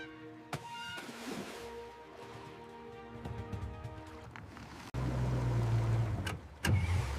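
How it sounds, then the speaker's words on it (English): Boat engines start abruptly partway through and roar loudly and steadily, after a quieter stretch of low mechanical hum and clicks; no voices are heard. "As our engines roared to life"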